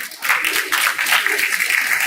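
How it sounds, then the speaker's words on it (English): An audience at a COP 30 side event in Belém, Brazil claps in a steady round of applause, with a dense, even patter from start to end and no talk heard. "I think we should give FCT a round of applause"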